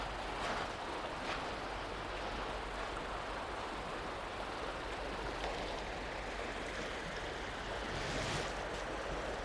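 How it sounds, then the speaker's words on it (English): A rain-swollen river flowing fast past a cut-off sandbar gives a steady, broad rush of water that fills the whole stretch, close and unbroken, with some wind buffeting the microphone. "the river's still moving pretty fast"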